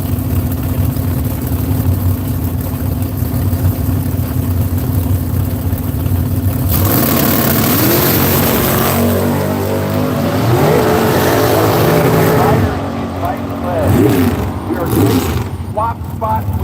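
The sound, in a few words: drag race cars launching, including a 1967 Camaro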